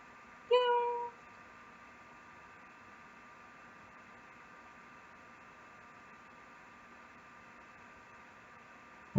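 A house cat gives a single short, clear meow close to the microphone, then a long stretch of near-silence with only a faint steady hum.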